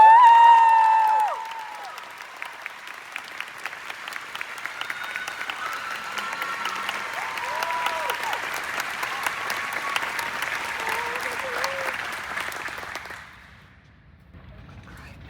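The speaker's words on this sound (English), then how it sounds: "Please join me in a round of applause for Boston University's College of Fine Arts 2025 Convocations Ceremony Speaker, Amira Sheikh" A crowd at a university fine arts convocation ceremony applauds and cheers for a long stretch, steady clapping with occasional whoops that fades out toward the end.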